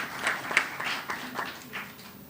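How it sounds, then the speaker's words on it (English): A small audience at a high school debating competition final claps for sponsors in a brief, thin round of applause with a few separate claps standing out. "Could we just give our sponsors a round of applause?"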